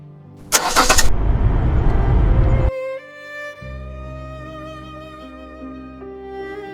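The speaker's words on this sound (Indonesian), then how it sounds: "Awas Michelle, ada mobil." Car in an animated scene, a loud roaring engine burst that cuts off abruptly, followed by a sustained musical tone and low hum with no talking.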